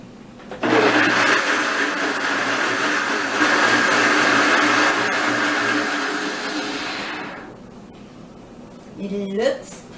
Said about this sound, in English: Now we are going to close this one and blend it until creamy.